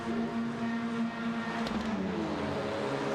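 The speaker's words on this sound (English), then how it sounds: "Well, the revs rise." Touring car engines revving together on the grid before a World Touring Car Series race start at Sebring, a steady, loud, buzzing drone of several engines with rising pitch toward the end.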